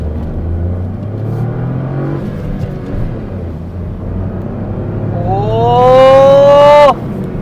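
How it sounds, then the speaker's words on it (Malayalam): A Mahindra XUV 3X0 accelerates hard in second gear, its engine note climbing steadily in pitch and loudness before easing off, heard from inside the cabin over a low road rumble. "സെക്കൻഡ് ഗിയറിൽ തന്നെ വണ്ടി 70 കയറി."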